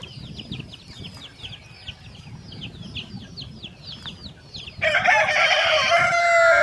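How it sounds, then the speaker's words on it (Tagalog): Pet chickens cluck in quick repeated bursts close by, with a low rustling background, then a rooster bursts into a loud nearby crow near the end. "mga alagang manok."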